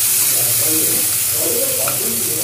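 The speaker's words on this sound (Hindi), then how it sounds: "हमन के 2 ठो कटल प्याज डाल देवल जाए एकदम बारीक। एक हमन के 2-3 मिनट चला के खूब बढ़िया से भून लेवल जाए।" Finely chopped onions frying in a pan for pav bhaji, stirred now and then, give a steady, loud, close hiss of sizzling that runs unbroken through the whole moment.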